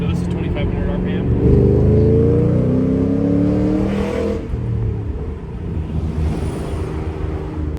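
A 2005–2009 Ford Mustang GT V8 pulls hard through second gear from about 2,500 RPM, heard from inside the car with the window down, its engine note rising steadily and loud throughout.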